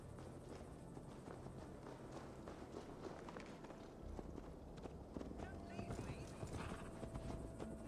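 Horses ridden at a steady pace in Assassin's Creed Valhalla, with continuous close hoof clatter and jostling movement, busy and dense throughout, and muffled voices mixed into the background.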